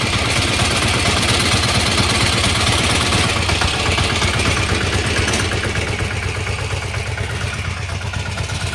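A small mini tractor engine idles steadily with a loud, rhythmic mechanical chug and rattling vibration, close up and continuous throughout, easing slightly toward the end.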